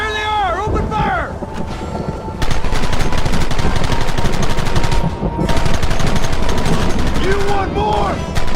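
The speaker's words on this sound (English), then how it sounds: "Open fire!" Wild West gunfight in the video game Red Dead Redemption: loud, dense bursts of rapid gunfire and rifle shots over wind, with brief shouting voices at the start and end.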